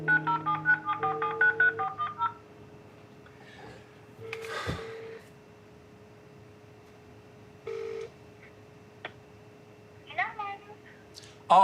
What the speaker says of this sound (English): now has to make a heartbreaking phone call